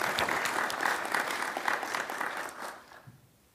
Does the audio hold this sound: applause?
yes